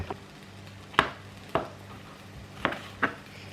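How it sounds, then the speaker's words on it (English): A knife rough-chops mushrooms on a board in a home kitchen, with about six sharp, separate thuds at an uneven pace over quiet background hum. "Literally just rough chop my mushrooms."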